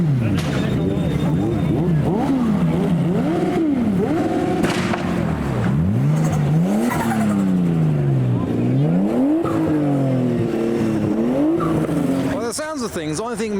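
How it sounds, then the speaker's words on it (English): Modified cars and motorbikes arriving at a car meet, engines revving hard in rising and falling sweeps that repeat throughout, loud and close, with a brief tire squeal near the end and people talking over it. "Bikes can rev"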